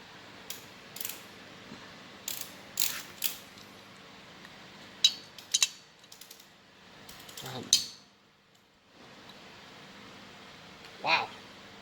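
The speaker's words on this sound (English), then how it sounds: "we'll just take one out and tighten it, the new one, new washer, new nut up to 18 foot-pounds" New nut on a 1974 Triumph Trident motorcycle rocker box tightened to 18 foot-pounds, heard as quiet intermittent ratchet clicks and metallic tool taps in short bursts, with a few soft sounds between.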